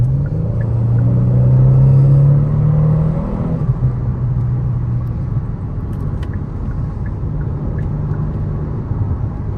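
Engine of a 2023 Kia Stinger GT2 while driving, a steady low rumble with a smooth rise in pitch early on, then settling into an even cruising drone with faint road noise.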